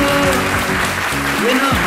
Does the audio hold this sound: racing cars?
no